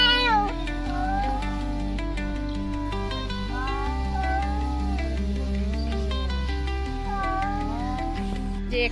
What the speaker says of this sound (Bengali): যেখানে বিড়াল ঝগড়া বাঁধাচ্ছে